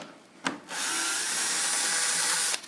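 A power tool, probably an impact driver or drill, spins a 13mm deep socket on a Can-Am Spyder RT mirror mount. One short blip comes first, then a steady loud whir runs for about two seconds and stops abruptly.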